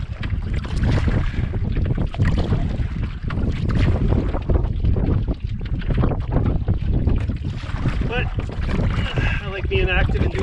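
Strong wind blows across an open wilderness lake, roaring and buffeting the microphone loudly and continuously, with a voice briefly audible beneath it near the end.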